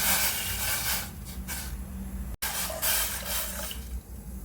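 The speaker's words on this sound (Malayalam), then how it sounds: "ഒരു പാത്രത്തിലേക്ക് ആ സെയിം കപ്പിൽ 3 കപ്പ് വെള്ളമാണ് എടുക്കുന്നത്" Water poured into a cooking pot, three cups measured for boiling to make upma, a running splashing stream with brief breaks between pours.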